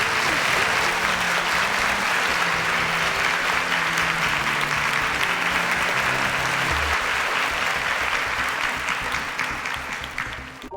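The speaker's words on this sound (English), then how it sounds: "Let's give them a round of applause as they exit the stage" Sustained applause from a large crowd, steady clapping that fills the whole stretch and slowly fades toward the end.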